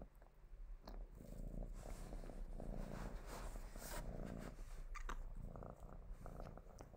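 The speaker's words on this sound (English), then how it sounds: "saying hello to you with a nice purr, you can probably hear" A cat purrs softly and steadily up close, the low rumble rising and falling with each breath.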